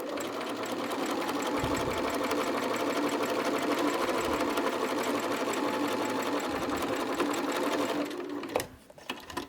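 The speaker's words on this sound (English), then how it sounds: "sew using a 1/4 inch seam allowance down the side like you would any other normal seam" Quilt pieces run through a sewing machine along a quarter-inch seam make a steady, close, whirring hum that lasts for several seconds, then stops abruptly and leaves a few light clicks.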